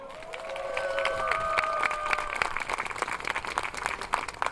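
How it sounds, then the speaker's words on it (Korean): Union rally crowd of Korail rail workers clapping in a large space, a dense wash of applause with scattered shouts, steady and moderately loud throughout. "박수 한번 쳐주세요"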